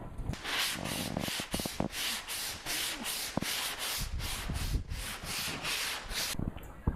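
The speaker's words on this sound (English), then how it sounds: "we'll sand all of that until this low spot, this guide coat, is off" Guide coat on body filler on a Jeep Wrangler Rubicon is sanded by hand, a close, steady rhythm of about fifteen rasping back-and-forth strokes with small knocks between them, no talking.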